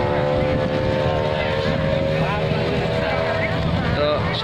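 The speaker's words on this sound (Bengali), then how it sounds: "একটি গান বোট স্পিড বোট নাকি স্পিডে এসে ঘুরে যাচ্ছে।" Speedboat speeding past and turning on the water at mini Cox's Bazar: a steady, loud engine drone with a whining tonal edge that holds throughout and shifts slightly as it turns.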